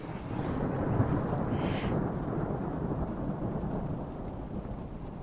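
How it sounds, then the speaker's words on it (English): A steady rain shower falls in Sam Houston National Forest, a dense, even wash of drops with a low rumble underneath that holds without a break. "we were about to get some in the form of rain"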